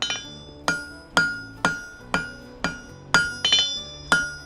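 A blacksmith strikes hot steel on an anvil in steady, ringing hammer blows, about two per second, loud and close, each leaving a bright metallic ring that decays before the next hit.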